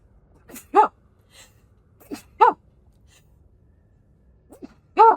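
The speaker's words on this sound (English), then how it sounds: "I've had the worst sneezing fit this morning" Three sharp sneezes spaced a couple of seconds apart, each a quick burst, close and fairly loud with quiet gaps between.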